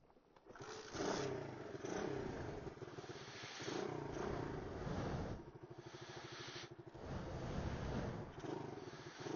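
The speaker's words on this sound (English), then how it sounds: "Let's get the bike started." A motorcycle engine is started and idles with a rough, throbbing rumble that swells and dips across several seconds, recorded close up with a muffled, band-limited quality.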